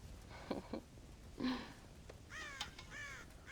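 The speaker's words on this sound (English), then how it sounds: "God damn crows!" Crows caw in the video game Red Dead Redemption, with several faint, harsh calls spread across a few seconds and some overlapping near the end.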